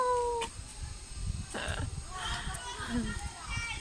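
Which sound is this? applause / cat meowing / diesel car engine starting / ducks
cat meowing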